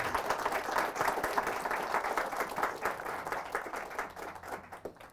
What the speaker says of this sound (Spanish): Fuertes aplausos al Rey de Reyes